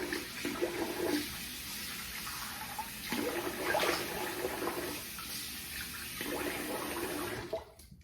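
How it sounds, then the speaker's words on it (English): Tap water runs and splashes at a sink as a freshly shaved face is rinsed. The rush is close and steady, swelling in bursts with the splashing, then cuts off near the end. No talking. "So I'm gonna rinse my face."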